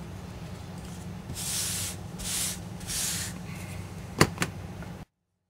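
A rotary grinding tool works on 1:6 scale figure body parts in three short, hissing bursts of grinding, followed by a couple of sharp knocks, over a low steady hum.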